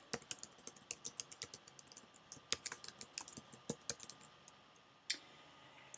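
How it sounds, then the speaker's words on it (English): Computer keyboard typing at close range, a steady run of quick light key clicks with short pauses and one firmer keystroke near the end, no voices. "type in the email address of the terminal user that I want to share access with"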